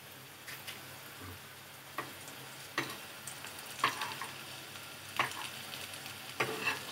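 Potatoes frying in a pan with a little oil, a steady low sizzle broken by several sharp scraping or stirring strokes spaced through the clip, close and moderately quiet, with no talking.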